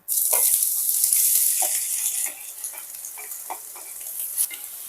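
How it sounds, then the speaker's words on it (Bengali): Soy chunks fry in a pan of oil, giving a loud, steady broadband sizzle that eases slightly partway through, with scattered stirring scrapes and taps. No voices are heard. "এবার এই তেলের মধ্যেই সয়াবিনগুলোকে ভেজে নেব"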